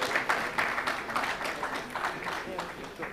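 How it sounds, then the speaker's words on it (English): Audience applause for conference speakers at an AfDB special session, moderate clapping with rhythmic bursts, mixed with a voice talking over it. "can I a big round of applause to our speakers"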